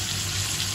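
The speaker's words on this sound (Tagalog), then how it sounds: "O, bibisa muna natin yung ating sibuyas." Chopped onion sautéing in a pan for ginisang pork munggo, with garlic already browning, giving a steady close sizzle with soft bubbling and no talk.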